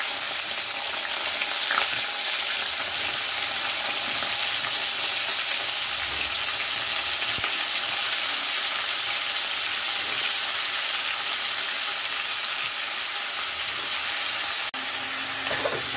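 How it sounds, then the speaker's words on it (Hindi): Pumpkin and potato pieces fry together in hot oil, a loud, dense and continuous close sizzle with a brief clatter near the end. "तेल गर्म हो चुका है और मैं जो ये कद्दू और आलू है ना एक ही साथ मैं"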